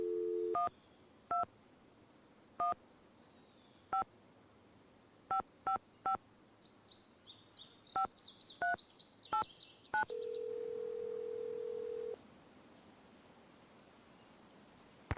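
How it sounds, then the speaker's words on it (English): A series of short telephone keypad tones beeps at uneven intervals in the video game Nancy Drew: Ghost Dogs of Moon Lake, followed by a steady dial tone, with a faint high insect-like buzz throughout. "Okay, make another phone call here, one more."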